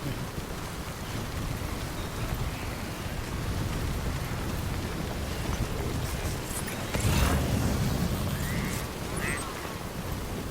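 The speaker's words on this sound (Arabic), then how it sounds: "يعني امطار وهواء قوي ما كملت." Heavy rain and strong wind in the video game Death Stranding, a dense steady roar of downpour and gusts filling the whole clip, swelling slightly louder partway through, with no talking.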